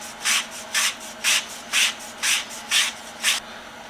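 Seven rhythmic back-and-forth strokes of 180-grit sandpaper rubbing around the edge of a wooden piece from a restored punch set, close and fairly loud, with brief quiet gaps between passes and no talking.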